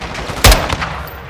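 A single loud, sharp burst of gunfire in Call of Duty: Modern Warfare II, close by, followed by a fainter echoing shot against a background of battle ambience.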